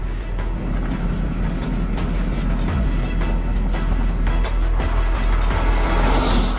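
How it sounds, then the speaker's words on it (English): A downhill gravity racer speeds past, a steady, loud rushing roar of wheels and wind that builds into a brighter hiss near the end as it goes by close. "he just kind of got that perfect fast car noise as he went past it"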